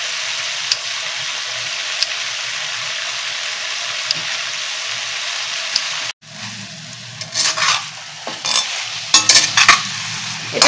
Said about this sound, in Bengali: এটা একবার নেড়ে দেই।